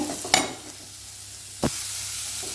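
Garlic fries in oil with chilli powder, giving a soft, steady sizzle close by. Two brief spatula scrapes cut through it.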